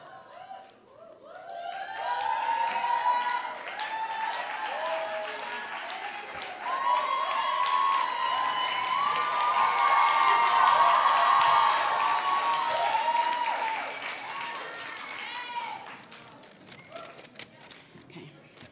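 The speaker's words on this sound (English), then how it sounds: "So please wait till the end of the list, and so then we can applaud everyone." Audience at a graduation ceremony applauding, a broad, sustained wave of clapping that swells, holds for several seconds and then tapers off, with some cheering mixed in.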